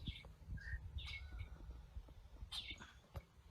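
A wild crow released outdoors at a wild bird workshop gives a few faint, distant chirps and caws amid quiet outdoor ambience, with no talking.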